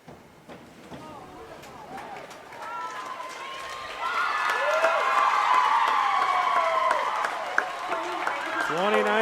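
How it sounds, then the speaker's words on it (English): A swim and dive meet crowd at the John Petroselli Pool breaks into loud, swelling cheers and whistles in an echoing natatorium, building from scattered voices to a sustained roar that holds through the end. "the John Petroselli Pool crowd ignites"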